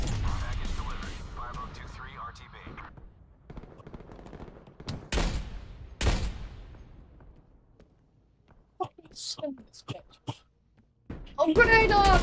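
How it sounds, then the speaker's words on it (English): Bursts of gunfire and artillery fire in Call of Duty Cold War on a Miami map, with sharp loud cracks and rattling volleys separated by quieter gaps, followed by a dense final burst. "there's loads of artillery going out there"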